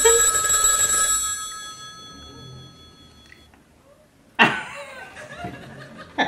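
A telephone bell rings loudly for about a second and its metallic tone fades away, followed by a quiet pause and then an outburst of laughter from an audience.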